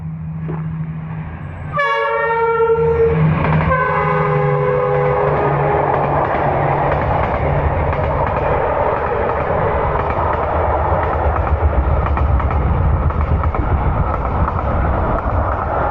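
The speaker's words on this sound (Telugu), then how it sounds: "రైలు వచ్చే టైంకి వచ్చామండి కరెక్ట్గా. రైలు గేట్ కూడా పడింది." A train passes a railway crossing with a lowered gate near a forest in Vietnam: a loud horn blast near the start, then a steady, close rumbling roar of the train going by that fills the rest.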